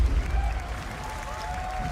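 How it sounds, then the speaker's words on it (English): Audience applause and cheering in a large hall after a video game trailer, a steady wash of clapping from a big crowd with some voices mixed in. "I like how the whales clap for just seeing a game trailer and not"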